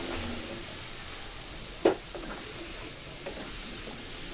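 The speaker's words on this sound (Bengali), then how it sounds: "ভালো করে নেড়ে মিশিয়ে নিব" Fish with pumpkin shoots and potatoes, seasoned with salt, turmeric and chili, stirred together in a pan: a steady low sizzle with one sharp utensil knock near the middle and faint scraping after.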